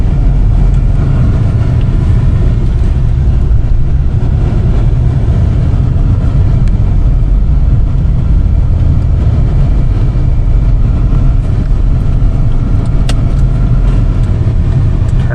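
Steady low road rumble and engine drone fill the cabin of a 1999 Oldsmobile 88 LS on the move, a constant, loud, smooth interior noise with no talking.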